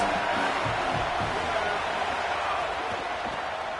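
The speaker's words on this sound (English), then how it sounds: "Big third down as the crowd gets behind this defense" Stadium crowd roaring in the College Football 27 video game during a Notre Dame versus Michigan matchup: a dense, steady wash of crowd noise throughout, with a commentator's voice underneath.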